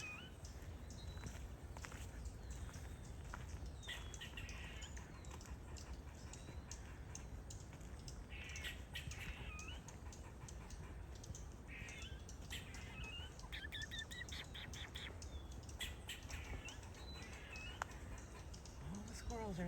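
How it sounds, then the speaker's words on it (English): Squirrels chattering alarm calls at a peacock outdoors, short sharp squawks and chirps repeating at scattered intervals, faint and distant over a low rumbling background with occasional footstep-like rustles. "All the squirrels are letting everybody know there's this peacock here."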